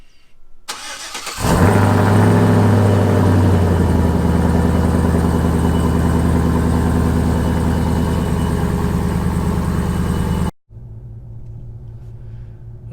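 A truck engine cold-starts after a moment of quiet, catching into a loud, steady rumbling idle held close for about nine seconds, then cuts off abruptly before a softer idle resumes.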